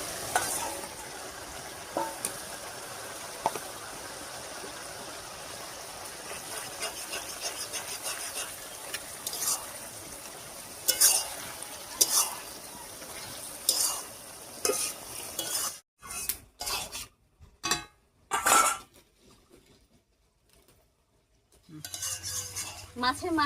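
Bottle gourd simmering in a pan with a fish head and cumin paste added, stirred with a metal utensil that scrapes and clinks for most of the time, then a few sharp separate scrapes before quiet.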